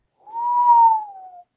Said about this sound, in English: With a prolonged whistle.